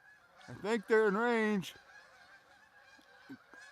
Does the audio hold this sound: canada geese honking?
yes